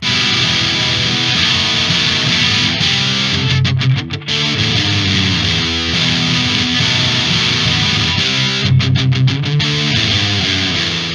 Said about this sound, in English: let's get a little distortion, overdrive on it.